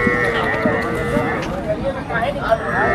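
Water buffalo lowing at a busy cattle market where buffalo are being sold, repeated drawn-out moos from nearby animals over a steady background murmur of the crowd.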